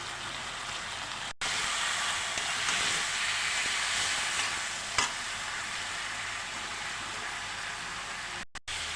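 Potatoes stir-fried with Kashmiri chili powder masala in a pan for Bengali egg and potato curry, a steady close sizzle with faint scraping stirs and a few brief breaks.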